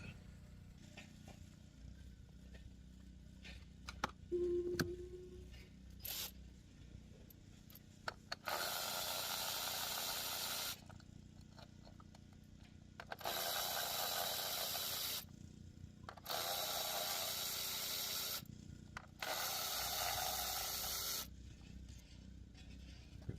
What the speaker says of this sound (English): you're going to remove all 4 10mm screws